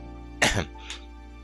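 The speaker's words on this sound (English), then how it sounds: "stops herself mid-sentence with a cough" A single short cough or throat clear from a Tsukihime video game character, close and distinct, followed by a softer second catch of breath in a quiet setting.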